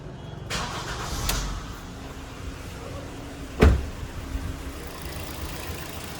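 A car engine starts after its engine bay has been cleaned and detailed, a single sharp crank-and-catch burst in the middle, followed by a low steady idle, heard up close with a couple of faint knocks before it.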